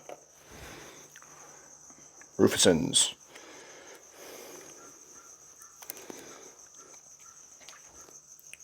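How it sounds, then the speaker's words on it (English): A constant high-pitched chirring of crickets fills the background, briefly covered by a loud close rustle, with a single short spoken word. "The crickets going in the background,"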